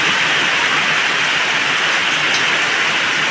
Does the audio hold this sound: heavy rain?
yes